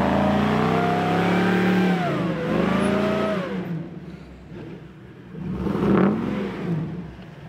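A Toyota 4Runner engine revs hard while driving on a beach, its pitch rising and falling, then surging again in a second close, loud burst.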